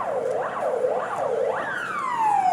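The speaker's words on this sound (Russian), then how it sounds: "что, пожарная, что ли, едет?" A fire engine's siren wails in rising and falling sweeps, then shifts to a long descending tone as it passes along a city street, loud and fairly close, with no talk over it.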